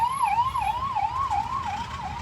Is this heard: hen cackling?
no